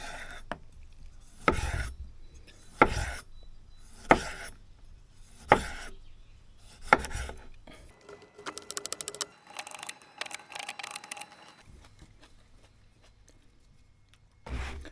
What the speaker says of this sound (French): tu te coupes des morceaux de tomates d'à peu près 2 mm d'épaisseur